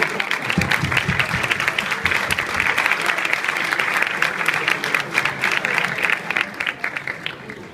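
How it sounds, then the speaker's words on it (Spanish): Sustained audience applause, many hands clapping densely for several seconds, loud and close, thinning slightly toward the end. "Ese aplauso fue un poco de lástima"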